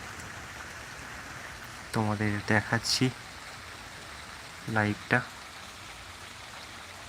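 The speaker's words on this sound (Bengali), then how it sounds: "বৃষ্টি এই সুন্দর প্রকৃতি" Steady rain falls outdoors among trees at the end of a hot season, a soft continuous hiss running beneath a few brief spoken phrases.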